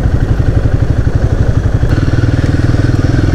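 Royal Enfield Guerrilla 450 single-cylinder engine pulling steadily while riding, a loud continuous low throbbing beat with slight mechanical clatter, close to the microphone and without talk, suspected low on fuel and feeling a little laggy.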